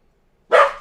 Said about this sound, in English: He's just barking like crazy.